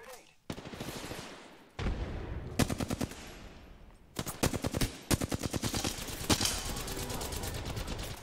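Apex Legends gunfire in bursts, with rapid automatic volleys and single shots separated by short gaps, sitting loud and close in the game mix. A faint voice is present.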